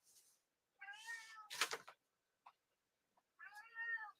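A pet cat meows repeatedly at a nearby door, wanting to be let outside: a short cry, then two strong drawn-out meows back to back, a faint chirp, and one more long plaintive meow, close and clear in a quiet room.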